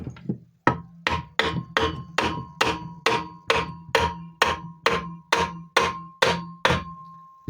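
Steady hammer blows strike an old 150 engine's casing to split its halves, about a dozen sharp, evenly spaced whacks, each with a brief ringing metallic tone, close and loud with no talking.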